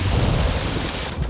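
Heavy rain pours with thunder rumbling in a dramatic outdoor film scene, a dense, loud wash of downpour holding steady across the short moment with no voices.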